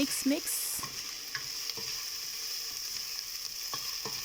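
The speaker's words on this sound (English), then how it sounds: "Mixing them to get my onions cooked a little bit before I add up my tomatoes" Onions frying in a little oil in a pan, a steady soft sizzle with a few stirring scrapes and knocks near the start and scattered taps afterward.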